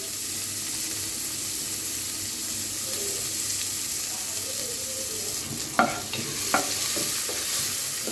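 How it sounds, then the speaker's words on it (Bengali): Chopped onions frying in a pan for beef tehari, a steady broad sizzle with a few sharp scrapes or clicks of the spatula near the end and no voices. "প্রথমে দিয়ে দেবো হচ্ছে পেঁয়াজ কুচি"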